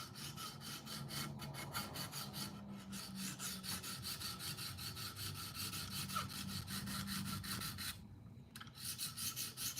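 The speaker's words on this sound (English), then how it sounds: "And right now I'm on the 140 grit stone." Blade sharpening on a 140 grit stone, a faint rhythmic scraping of steel drawn repeatedly across the stone in quick regular strokes, with one short pause near the end.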